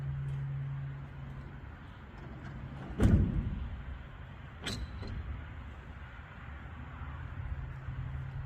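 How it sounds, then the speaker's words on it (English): A garage door is heaved shut, ending in one loud slam followed by a lighter rattle, set against a steady low background hum. "process of me shutting that garage door"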